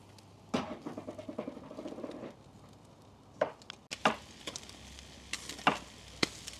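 Chicken sizzling on a charcoal grill over hot coals, a steady crackling fry with scattered pops and sharp ticks, close and moderately loud, no talking.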